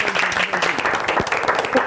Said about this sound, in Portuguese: Uma salva de palmas para a minha noiva.